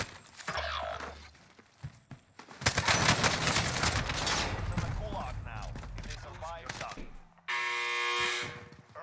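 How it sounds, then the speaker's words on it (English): A little robot in Call of Duty Warzone fires rapid bursts of gunfire, buzzing crackling volleys in several stretches, with mechanical whirring and players talking between and over the shots. "Little robot shooting my body."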